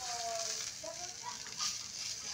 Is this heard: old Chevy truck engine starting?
no